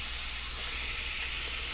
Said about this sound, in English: Listen to that or sizzle.